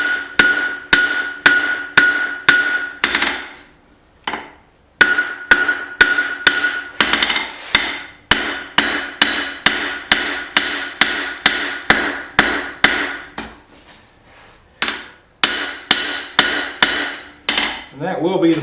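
Steady, loud ringing hammer blows on hot steel as a knife tang is tapered out of a bolt at the forge, struck in quick rhythmic bursts with short pauses between runs.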